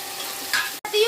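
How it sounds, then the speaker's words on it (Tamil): Meal maker soy chunks sautéing over full flame in a pan, a steady close sizzle with brief stirring scrapes and one short break before the frying resumes. "ஃபுல் ஃப்ளேம்ல வச்சு வதக்கணும்."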